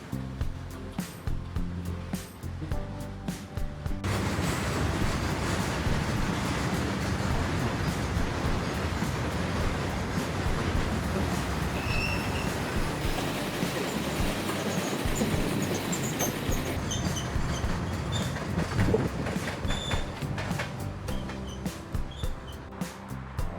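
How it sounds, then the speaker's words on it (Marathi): A freight train passes on the Panvel–Karjat railway line, its broad, continuous roar building after a few quieter seconds and holding steady to the end. "मालगाडी"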